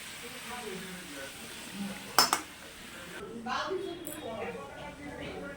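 Metal pots and woks clink and knock as mutton curry is divided between two woks on the stove, one sharp clatter standing out over a quiet kitchen hiss, with a person talking nearby.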